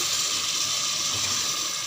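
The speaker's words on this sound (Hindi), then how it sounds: "तकरीबन 3 गिलास के करीब मैंने इसमें पानी डाल दिया।" Water pours steadily into a cooking pot of mash ki daal (lentils) and chicken, a continuous close rushing splash that holds level for about two seconds without any voices.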